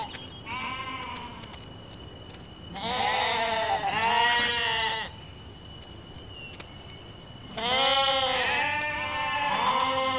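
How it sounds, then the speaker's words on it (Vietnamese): Sheep bleat in a series of wavering, nasal calls in three bursts with quiet gaps between them, close and clear over a faint background of chirping insects. "Cừu à cừu,"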